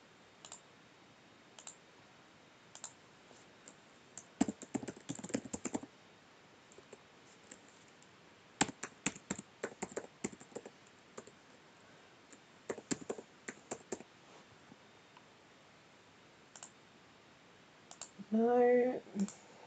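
Computer keyboard being typed on while tabbing through online entry form fields, sparse clusters of quiet clicks and taps separated by pauses, close and isolated.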